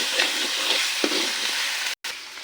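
Spices frying in oil for a meat and jackfruit seed curry, a loud, close, continuous sizzle with a few light spoon scrapes and a brief dropout near the end.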